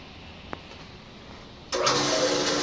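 A water pump at a solar-powered house kicks on abruptly after a soft click, then hums and rushes steadily and loudly.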